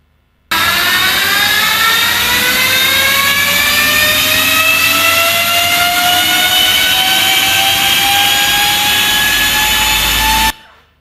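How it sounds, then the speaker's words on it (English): An Ultraviolette F77 electric motorcycle gives a loud, continuous turbine-like whine made of several rising tones that climb steadily for about ten seconds, heard alone with no talk, then cutting off abruptly. "The sound you just heard is the actual sound of the F77 motorcycle."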